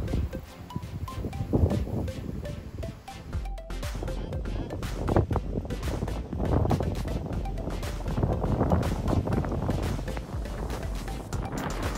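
Strong wind buffets the microphone while cycling along a lakeside route near Podersdorf, Burgenland, a loud continuous rumbling roar with gusty surges, and a voice is briefly heard early on.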